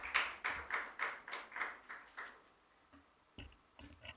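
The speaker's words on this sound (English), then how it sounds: "I'm sure I deserve a louder hand clap." Hand clapping from an audience at a World Contraception Day 2021 event, a run of about eight distinct claps in a steady rhythm that fades out, followed by a few scattered softer claps.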